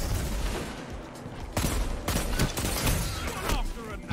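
Gunfire from several players in the Destiny video game, with loud overlapping bursts of rapid shots and sharp cracks firing in close, repeated volleys.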